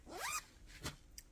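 A zipper on a bag is pulled in a quick rising rasp, followed by two shorter, quieter zips, all close and soft with no talk.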